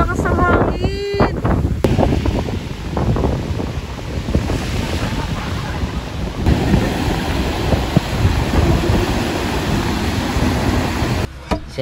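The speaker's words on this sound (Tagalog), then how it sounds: "ang lakas ng hangin." Strong wind roars across the microphone on the tallest bridge in the Philippines, a continuous loud buffeting rush lasting the whole stretch, with brief voices near the start.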